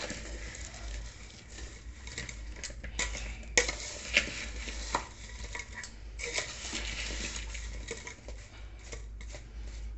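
Citron pickle pieces tossed by hand with salt and turmeric, giving soft scraping and stirring with a few sharper clinks against the bowl, faint and continuous.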